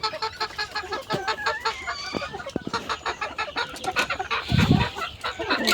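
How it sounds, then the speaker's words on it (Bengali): Several chickens cluck and chatter close by in a busy, overlapping flock, with scattered sharper calls among them. "এখানে যে মুরগিগুলো দেখতে পাচ্ছেন"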